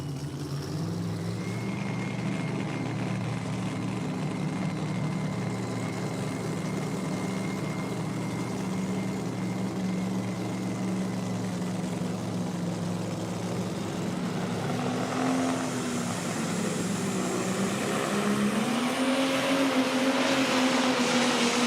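A 10,000-pound Pro Stock pulling tractor hauls a sled at a night pull in Dunn, North Carolina, its engine a loud, sustained heavy roar that climbs in pitch toward the end, with no talk over it.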